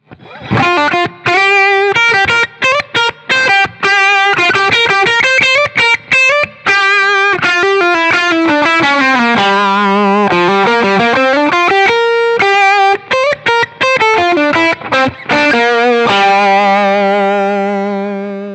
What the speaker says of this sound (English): I'm hearing just as a bright kind of slightly fuzzy distortion sound